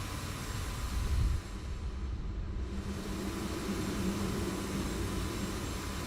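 An F-18 jet at an air show, landing after its routine, makes a steady broad roar and rumble that holds level throughout, with a brief louder swell near the start.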